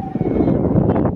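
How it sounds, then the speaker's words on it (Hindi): Strong wind gusting across a microphone outdoors in a park, a steady loud broadband roar filling the whole moment without pause. "इतनी तेज़ हवा चल रही है"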